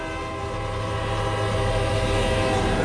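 A train rumbles steadily past with a constant, loud roar and a sustained horn-like tone throughout, with no breaks or speech.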